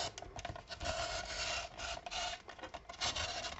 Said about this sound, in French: Mais en tout cas, ça m'a coupé le papier.